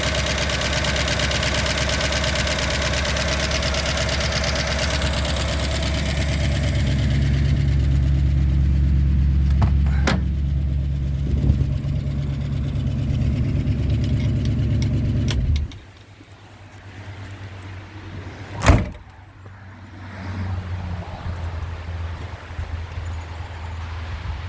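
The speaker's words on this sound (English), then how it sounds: "Got a little valve train noise." A 1963 Ford Galaxie convertible engine idles with a steady rumble and ticking valve train noise from stuck lifters, then cuts out partway, leaving a quieter background with a sharp knock.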